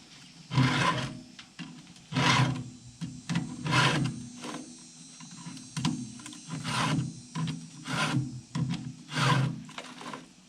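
A Stihl chainsaw chain is sharpened by hand with a file, giving about nine rasping strokes in a steady rhythm, each one close and clear with short pauses between.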